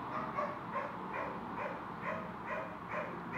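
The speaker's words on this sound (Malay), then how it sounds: "sorry kalau korang dengar bunyi anjing" A dog barks and yips faintly in the background in a steady, repeated rhythm, nearly buried under a constant noise floor.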